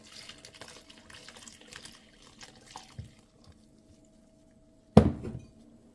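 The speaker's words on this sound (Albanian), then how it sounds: "Tani ja shtojmë ujin me majën e bukës." Water poured into flour for a spoon-fritter (petulla) batter, arriving as a single brief splashy burst near the end after several seconds of quiet, faint kitchen handling.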